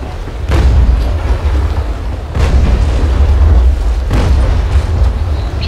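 Ship cannons booming in the naval combat game Naval Action, three heavy blasts spaced a couple of seconds apart, each with a long rumbling tail that fills the gaps, loud and close with no talk.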